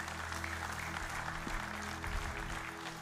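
A church congregation breaks into steady applause, many hands clapping together at a distance under a low hum of the hall.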